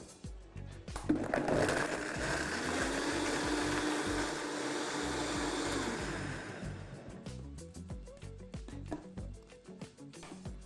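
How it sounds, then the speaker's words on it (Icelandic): A blender mixes a drink with ice cubes, starting with a rattling clatter and then rising into a loud, steady whirring grind for about five seconds before dropping back to scattered knocks and clinks. "Svo setjum við hann bara á blandarann."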